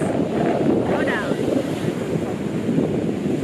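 Big ocean waves surge and roll steadily at sea near a boat, a dense continuous wash blended with heavy wind buffeting the microphone, loud throughout with no pauses.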